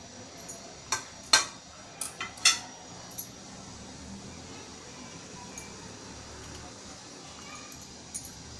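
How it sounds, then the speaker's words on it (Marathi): A knife cuts through cooled, crispy coriander fritters (kothimbir vadi) made with rice flour, giving a handful of sharp clicks and crunches around the first few seconds, then a faint, quiet room with only scattered light taps. "आपण ह्याला कापून घेऊया।"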